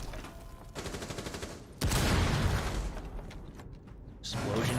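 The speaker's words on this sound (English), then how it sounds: "Explosions everywhere" Gunfire and explosions in Rainbow Six Siege rumble through a match, with dense rapid shots, then a sudden loud blast at about two seconds, followed by sustained crackling and booming at a fair distance.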